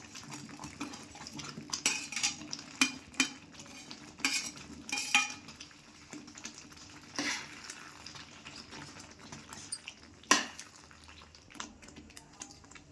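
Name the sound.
paneer being added and stirred into a peas masala in a pan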